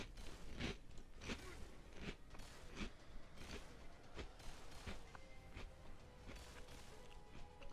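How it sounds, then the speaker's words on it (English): A streamer chewing food close to the microphone, a run of repeated crunchy bites and chewing sounds in a steady rhythm, quiet overall and without talk. "Can you guys hear me chewing?"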